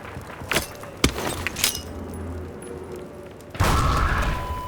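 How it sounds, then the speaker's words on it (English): Grenades explode in the video game Half-Life 2: a few sharp cracks and thuds, then a louder blast whose rumbling roar sustains to the end. "Gordon, grenades!"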